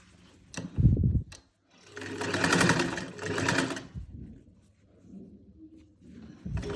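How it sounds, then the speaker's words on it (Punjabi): Sewing machine running in two bursts as it stitches panels together on a garment's back neckline and plackets, a short whir followed by a longer steady buzzing run, close and alone with brief pauses between. "ਇਧਰਲੇ ਪੱਲੇ ਤੇ ਸਲਾਈ ਲਾ ਲੈਣੀ ਆ ਐਦਾਂ ਆਪਣੇ ਦੋਵੇਂ ਪੱਲੇ ਅਟੈਚ ਹੋ ਜਾਂਦੇ ਨੇ"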